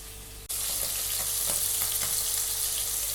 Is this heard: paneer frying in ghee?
yes